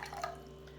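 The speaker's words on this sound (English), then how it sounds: "pour my lemon juice in" Lemon juice is poured into a bowl, a faint trickle with a few small drips and splashes heard up close over a quiet low kitchen hum.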